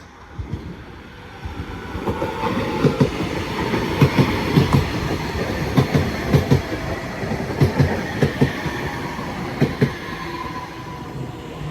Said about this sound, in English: next train to show up is a 331 going to Blackpool North